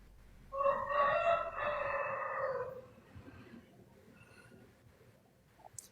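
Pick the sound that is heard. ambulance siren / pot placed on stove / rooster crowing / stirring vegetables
rooster crowing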